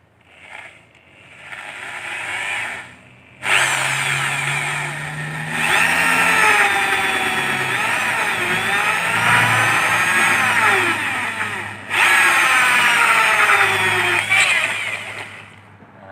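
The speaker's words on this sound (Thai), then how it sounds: "อ่านี้เราก็เจาะเจาะที่ฝานะครับ" Power drill boring a hole through a plastic cap, a close, loud whirring whine in long sustained bursts broken by two brief pauses, the pitch wavering as the bit bites.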